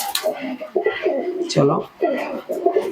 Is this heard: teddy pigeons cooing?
yes